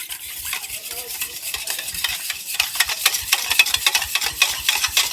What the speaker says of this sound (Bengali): হাফ কাপ পরিমাণে দুধ দিয়ে দিচ্ছি টু টেবিল স্পুন সাদা তেল সমস্ত কিছু খুব ভালোভাবে হ্যান্ড ওয়েস্কের সাহায্যে মিশিয়ে নেব